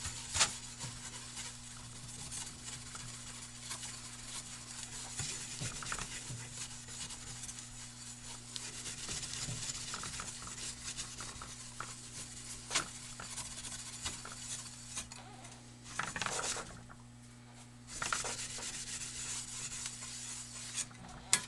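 A circular saw blade, cleaned before use on a Harbor Freight sharpener, gets scrubbed with a steady, close rubbing and rasping that runs continuously with a steady hum beneath and brief pauses near the end.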